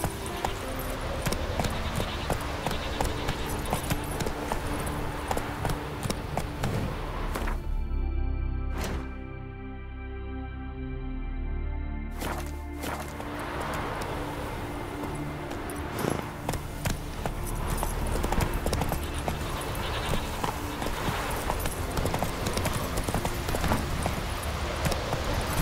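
Horse hooves drum along in The Witcher 3: Wild Hunt, a steady clip-clop gallop running under game ambience and music, with a brief quieter gap partway through.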